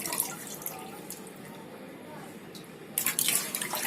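Bele fish being washed under water, a soft continuous trickle and drip with a burst of louder splashing near the end.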